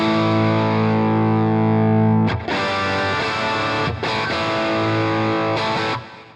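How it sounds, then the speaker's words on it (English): Bright, trebly electric guitar with a crisp single-coil twang from a Fender Poblano Stratocaster with its tone turned fully up, strummed chords ringing out with short breaks between, played alone. "you get all those real sort of trebly Strat tones."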